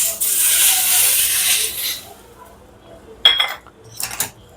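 Raw mango pieces tossed with tempered mustard and cumin in a bowl, a hiss-like rustle of stirring at first, then a few sharp clinks of a metal spoon against the bowl.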